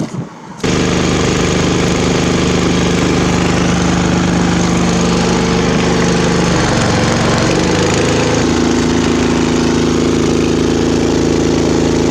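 A loud small homemade outboard boat motor built from a Honda engine starts up on a river and runs steadily, a droning, buzzing engine that shifts pitch briefly partway through before settling back.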